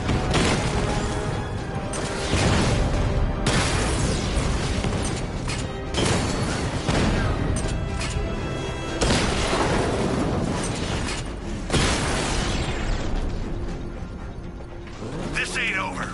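A combat drone takes hits and blows up in Batman: Arkham Knight, with loud repeated bursts and grinding mechanical clanks spread across a long stretch of dense, busy game noise.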